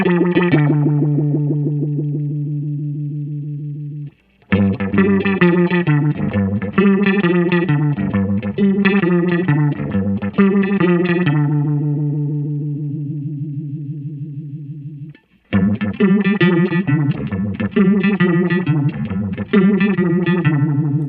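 Electric guitar played through an Earthquaker Devices Grand Orbiter phaser pedal, loud distorted chords and riffs with a sweeping, swirling modulation, sustained chords giving way to busy picked passages, no voices.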